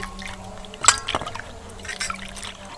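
Water drips and trickles in scattered small splashes as a bottle gourd is rinsed by hand in a kitchen, with one sharper splash near the start.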